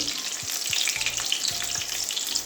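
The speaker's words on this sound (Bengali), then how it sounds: "পটলটাও আমার ভাজা হয়ে গেছে এই যে লাল লাল করে ভেজে নিয়েছি" Pointed gourd (potol) pieces frying in oil in a pan, a loud, dense crackling sizzle with occasional stirring knocks and scrapes, steady throughout with no speech.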